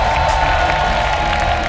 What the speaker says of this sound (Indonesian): Oke, tepuk tangan dulu buat keempat panelis.